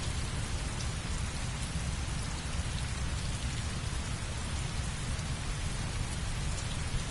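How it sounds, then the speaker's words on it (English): Heavy rain in a PS4 video game, a steady dense downpour pouring without a break through the whole stretch, with no voices over it. "Heavy rain. It's been the same for weeks."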